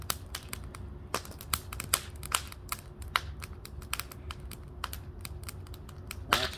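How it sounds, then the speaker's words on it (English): Wood fire burning outdoors in late-season October, crackling with sharp irregular pops and snaps over a low steady rumble, close by and with no talk. "That's a fire, Jimmy boy."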